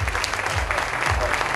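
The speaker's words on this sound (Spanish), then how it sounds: "nuevamente, aplauso para todo el equipo de Estefan" Steady applause from a crowd honoring a team at a tenth-anniversary celebration, a dense continuous clatter of clapping throughout.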